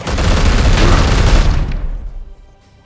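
Gunfire in Warhammer 40k: Chaos Gate Daemonhunters arrives as a loud, dense burst of rapid shots and booms that cuts off, leaving a short fading tail.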